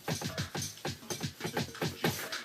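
A Pioneer DDJ SX DJ controller with Serato triggers hot cues on its performance pads with slip mode on, producing choppy, rapidly repeating stabs of music in a quick stuttering rhythm.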